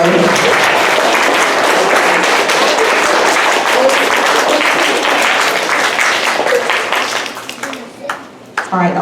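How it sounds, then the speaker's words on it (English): Loud, sustained applause from a school audience honoring AB honor roll students, dense clapping for several seconds that thins into a few scattered claps and a faint voice at the end. "let's have a big round of applause for our first row"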